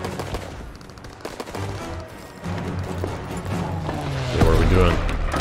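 Anti-aircraft gun fire in Call of Duty: WWII at the Rhine, rapid heavy bursts of gunfire with battle noise, building to a loud, dense barrage near the end, with voices shouting over it.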